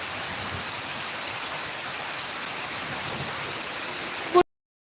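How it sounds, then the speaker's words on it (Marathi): Heavy rain falls in a loud, unbroken rushing hiss that continues steadily, then cuts off abruptly near the end. "बघ दादा पाऊस खूप आहे आमच्याकडे"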